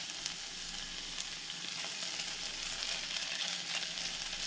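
Onions and vegetables sauté gently in a pan to soften, a soft, even sizzle with faint crackles, steady and fairly quiet throughout with no talking.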